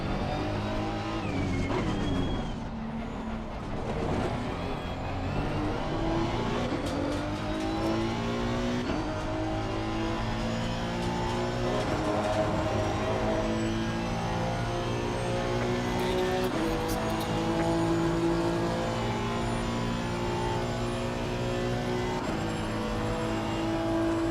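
Audi race cars in Assetto Corsa Competizione at Barcelona roar continuously up close, engines revving and shifting through gears with occasional tire squeal, multiple cars audible in a steady, loud pack.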